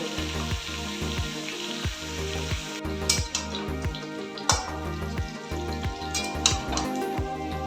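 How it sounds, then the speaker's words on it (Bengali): Potatoes frying in a pan until browned for aloo dum, a moderate continuous sizzle with scattered pops and stirring, over a regular low rhythmic beat. "আলুগুলো একটু লাল করে ভেজে নিই"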